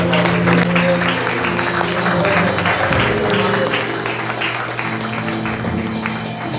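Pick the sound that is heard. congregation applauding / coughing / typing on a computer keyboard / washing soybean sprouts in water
congregation applauding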